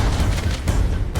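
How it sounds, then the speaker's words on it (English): Explosions in the Halo CE Anniversary video game form a dense, booming barrage, loud and continuous with heavy low rumble and sharp bursts layered over each other. "Explosions everywhere."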